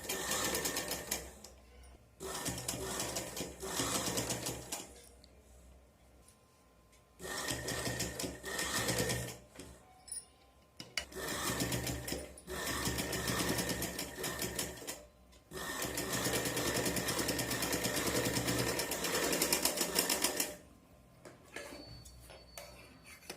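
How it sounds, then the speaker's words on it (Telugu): Sewing machine stitching the neckline of a Punjabi dress top, running in steady rapid bursts of mechanical ticking several seconds long, separated by short pauses, close and clear. "ఇప్పుడు దాన్ని కూడా నేను స్టిచ్చింగ్ చేసుకుంటున్నాను."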